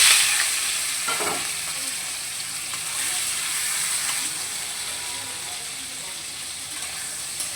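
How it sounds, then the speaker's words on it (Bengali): Salted, turmeric-coated prawns fry in hot oil with a steady, close, bright sizzle and crackle that continues throughout, joined by a brief clink of a utensil near the start. "বেশ একটু হালকা লাল লাল করে চিংড়ি মাছটাকে ভেজে নেব।"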